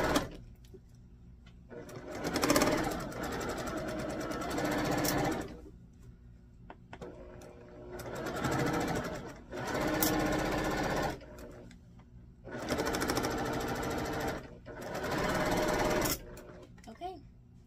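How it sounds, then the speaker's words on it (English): A sewing machine stitches pinned quilt blocks together in four separate runs, each several seconds long, with a steady mechanical whir. Short pauses fall between the runs, and faint background sounds fill the gaps. "So, I'm just going to continue to sew."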